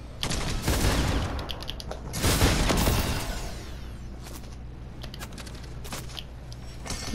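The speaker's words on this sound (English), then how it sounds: "just spazzing out with his shotgun" Rapid shotgun blasts in the Fortnite video game trade back and forth in a dense, near and loud burst of firing, with a second heavy volley surging midway before the shots thin out.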